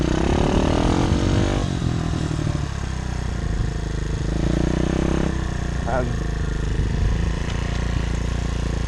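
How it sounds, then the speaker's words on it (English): A Demon DXR 125 pit bike engine revs up as throttle is applied, a loud, close motorcycle buzz rising and falling in pitch over a steady idle, with wind noise around it. "Now you can start to give it a bit of throttle."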